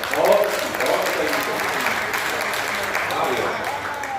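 An audience at a Hindi poetry gathering claps together in sustained, even applause, close and fairly loud, without any pauses.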